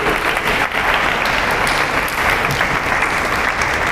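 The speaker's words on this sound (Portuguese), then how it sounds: "Obrigado, vamos aplaudir." A church congregation breaks into loud, sustained applause during a live worship service, a dense wash of clapping that fills the room evenly for several seconds.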